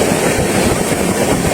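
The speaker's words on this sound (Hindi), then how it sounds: "ट्रेन हमारी लखनऊ जंक्शन से निकल चुकी है।" The Lucknow Mail train leaves Lucknow Junction with a loud, steady clickety-clack of wheels on rails and a constant rumbling rush, heard up close.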